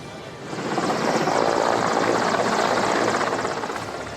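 An Indian Air Force Mi-17 helicopter carrying a tigress out of Pench Tiger Reserve gives a steady, loud rotor and engine roar that swells slightly after the start and holds throughout, with no voices.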